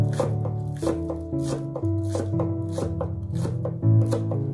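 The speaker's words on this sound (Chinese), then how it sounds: "再准备一把小葱，直接把它切成葱花" A knife chops a bunch of scallions into small rings on a cutting board, in steady rhythmic strikes under continuous background music.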